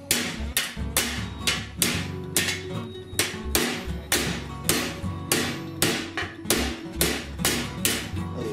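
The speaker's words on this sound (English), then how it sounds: "This hammer I'm using has curved faces on it, so it matches the curve of what I'm working." Curved-face body hammer tapping a rusty disc brake duct from a 1978 Ford F150, a steady series of sharp, close metallic taps about two per second, evenly paced throughout.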